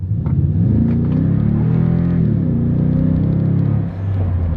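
A big four-wheel-drive pickup truck launching hard with traction control off, its engine rumbling and revving loud and close as the tires spin, one steady surge that dips near the end.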